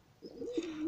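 A racing pigeon gives one short, soft coo, heard close and alone with no voices.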